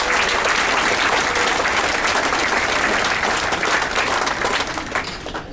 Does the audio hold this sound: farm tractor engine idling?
no